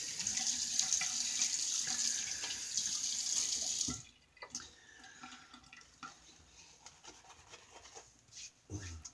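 Sink tap water runs steadily onto a shaving brush for about four seconds, then stops, followed by soft rubbing and handling sounds.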